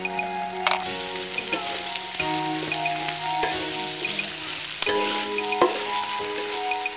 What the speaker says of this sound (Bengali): মশলাপাতির মিশ্রণ নেড়েচেড়ে কিছুটা কষানোর পর